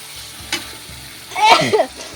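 Onion and curry sizzle in a pan in a village kitchen in Assam, with a short scraping stir partway through and a louder burst of frying toward the end, heard up close.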